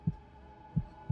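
A heartbeat throbs in low, muffled pulses, three beats over a steady faint hum, quick and evenly spaced.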